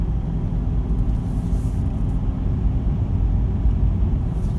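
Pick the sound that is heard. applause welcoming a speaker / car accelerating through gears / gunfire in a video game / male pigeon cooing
car accelerating through gears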